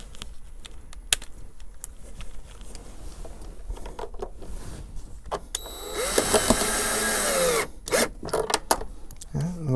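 Power drill driving a self-tapping screw to mount a fire extinguisher on a VW Beetle: scattered clicks and taps, then a loud, high-pitched whirring burst of a couple of seconds, followed by a few knocks, close up.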